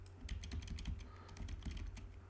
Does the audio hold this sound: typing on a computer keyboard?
yes